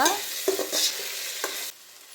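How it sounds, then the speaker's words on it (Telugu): Tomato, coriander and mint stirred into a hot frying pan, with a scraping spoon and steady sizzling that break into a few louder clattering strokes before the hiss drops away near the end. "టమోటా కొత్తిమీర పుదీనా వేసుకొని ఒకసారి బాగా కలుపుకోవాలి"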